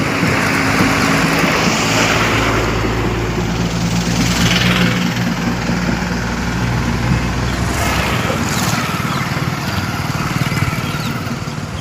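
A loud, continuous engine drone from a village water pumping station runs throughout, a steady mechanical rumble heard up close with no pauses.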